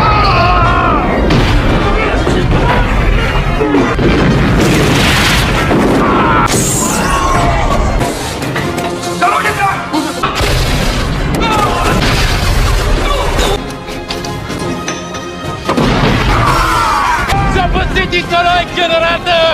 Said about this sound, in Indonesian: Mousagani menyalakan peledak, yang sudah ditanam di berbagai titik sebelumnya